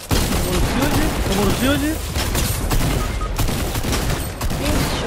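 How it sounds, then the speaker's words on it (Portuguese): Rapid gunfire in Fortnite, dense overlapping bursts of shots running steadily throughout under excited Portuguese speech from a player. "Tem cara aqui atirando em mim."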